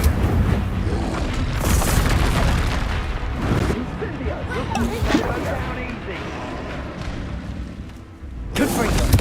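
Confringo explosive spell blasts in Hogwarts Legacy hit as loud, dense booms amid combat noise and shouted voices, with a sharp new burst near the end.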